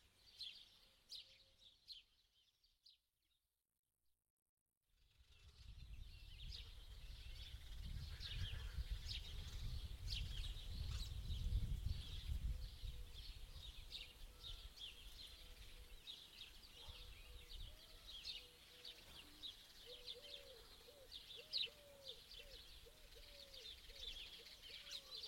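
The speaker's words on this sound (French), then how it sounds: "Toute votre attention sur le chant des oiseaux" After a few seconds of near silence, birds chirp and sing outdoors in scattered high calls over a soft, steady background hum.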